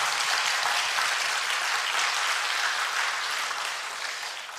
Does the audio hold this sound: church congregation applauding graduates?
yes